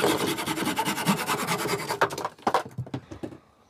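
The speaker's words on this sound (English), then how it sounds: "I plan to sand this into 90 millimeters." A wooden slingshot blank is sanded by hand in rapid back-and-forth rasping strokes, close and moderately loud, then breaks into a few slower, separate scrapes before stopping.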